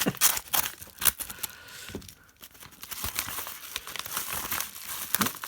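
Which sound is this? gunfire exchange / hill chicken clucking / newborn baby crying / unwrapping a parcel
unwrapping a parcel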